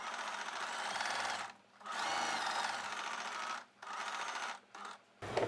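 An electric sewing machine stitches invisible-thread piping along the square neckline of a plain blouse, running in long steady whirring bursts separated by brief pauses and a short final spurt.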